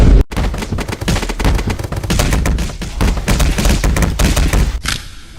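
Rapid gunfire in the Animal Company VR game, loud continuous bursts of shots crackling for several seconds before cutting off abruptly.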